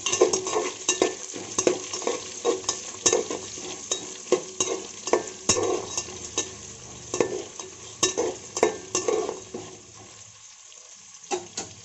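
Onions and green chillies for mushroom biryani fry in hot oil, with a steady close sizzle broken by repeated sharp spoon scrapes and taps against the pan, easing off near the end.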